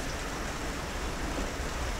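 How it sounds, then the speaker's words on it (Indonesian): Steady rain falls in a dense, even hiss with no breaks, fairly loud and close throughout. "Ya, hujan lagi."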